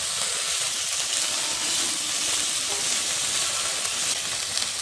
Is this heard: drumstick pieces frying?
yes